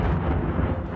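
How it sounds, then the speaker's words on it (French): An explosion in the war-hit town of Avdiivka, Ukraine, a dense low rumble that rolls on steadily for the full second without a sharp onset, heavy and distant-sounding with no talk. "le bruit d'une explosion, un son familier pour les habitants d'Avdiivka"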